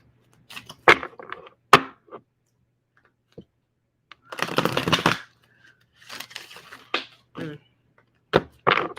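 A deck of playing cards is shuffled by hand, several separate bursts of fast riffling clicks with brief pauses between them, close and crisp, with no talking.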